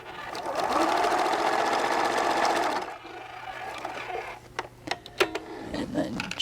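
A sewing machine runs a scant stitch seam on a fabric pouch, buzzing steadily and loud for about three seconds before stopping, followed by quieter handling clicks and taps.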